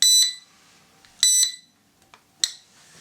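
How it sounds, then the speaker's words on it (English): A Kai Deng K70C drone's power switch gives three short electronic beeps, sharp and high-pitched, spaced about a second apart, with near silence between them. "simply press button down, you hear it beep"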